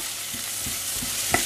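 Chopped onion and pepper fry in a pan with a steady, dense sizzle, broken by soft periodic scrapes as they are stirred, close and continuous.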